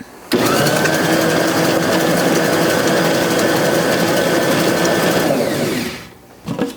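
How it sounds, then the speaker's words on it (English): A NutriMill stand mixer creaming softened butter with other ingredients, its motor starting abruptly into a loud, steady whirring drone with a faint rhythmic knock, running for several seconds before winding down and briefly restarting. "So let's mix all these ingredients together to cream it"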